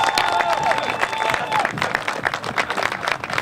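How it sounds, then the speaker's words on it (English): Crowd applause at an outdoor groundbreaking ceremony, steady clapping from many hands with a few cheers and faint voices mixed in, lasting throughout. "Give him a big round of applause."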